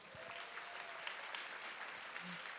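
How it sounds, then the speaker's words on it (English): Steady applause from a crowd at a card game festival, a continuous wash of clapping throughout at moderate volume with no voices standing out. "Ladies and gentlemen, please give them a round of applause."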